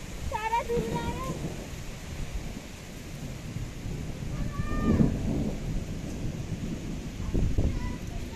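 Steady rain falls throughout during a hot-weather shower, with low thunder rumbles swelling around the middle and again near the end, while people talk over it.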